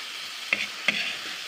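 Bitter gourd stir-fries in a pan with fish, tomato and onion. A soft, steady sizzle runs throughout, and two sharp scraping stirs of a utensil cut through it.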